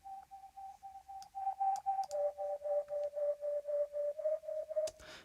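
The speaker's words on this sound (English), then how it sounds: "There is this radar effect in the drop." A radar-like synth sound effect in the drop of a chill electronic track sends out a steady train of short, bright beeping pulses, shifting down in pitch halfway through, with no voices.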